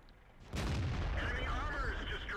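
A tank cannon from World of Tanks fires a single heavy boom that rolls into a long, loud rumbling echo, with someone talking over it.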